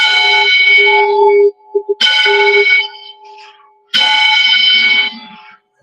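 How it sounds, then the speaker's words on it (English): A large bell tolls three times at the Alabama Governor's Mansion, each strike ringing out loud and sustained with a rich humming overtone before slowly fading. "I'm going to start us off with just a tolling of the bell."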